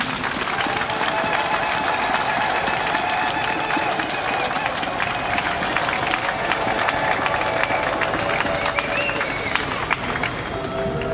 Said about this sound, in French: manifester leur joie en vous accueillant par des applaudissements frénétiques